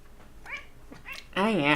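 A cat meows in a loud, drawn-out call near the end, preceded by a few shorter, softer mewing sounds close by.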